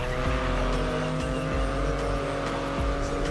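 Racing car in The Crew Motorfest, a close, loud engine droning and shifting pitch through gear changes over about three seconds, with no voices.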